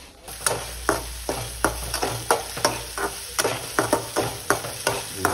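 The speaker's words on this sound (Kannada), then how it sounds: "ಈರುಳ್ಳಿ ಹಾಕ್ತೀನಿ" Onions fry in a pan for a chicken dish, sizzling steadily under regular scraping stir strokes. It is close and alone, with no talking.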